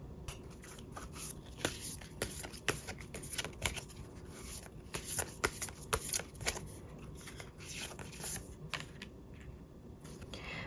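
A deck of tarot cards is shuffled by hand, with steady, close riffling and flicking that goes on throughout at a soft level, with no talk.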